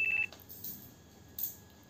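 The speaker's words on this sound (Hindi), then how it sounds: "अरे इस टाइम किसका फोन है?" A telephone rings in a home with a bright, sustained electronic ring at the start, cut off after about a quarter second; faint household noise follows.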